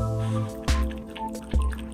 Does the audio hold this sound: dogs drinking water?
yes